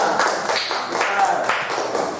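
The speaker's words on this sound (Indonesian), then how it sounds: "tepuk tangan buat kelompok 2" Classroom applause for a student group: a short burst of scattered hand clapping and tapping from a class, close and fairly loud, lasting about two seconds.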